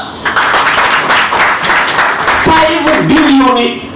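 An audience bursts into applause at a formal speech event, a dense burst of many hands clapping for a few seconds before a voice speaks over the fading claps.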